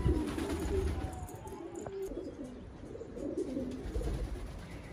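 A runaway pigeon coos in low, rolling phrases close by, its calls continuing steadily against a background murmur and rustle.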